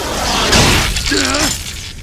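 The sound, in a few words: strike hitting a ship's window in Xenosaga video game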